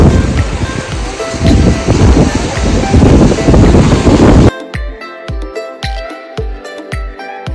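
Night waves and gusting wind roar at Kanyakumari beach for about four seconds, a loud, continuous rush of surf and microphone buffeting, then give way abruptly to rhythmic music with regular beats.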